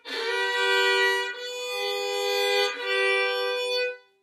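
Three long bowed violin double stops, the two notes slightly out of tune with each other, sustained and close with no talking.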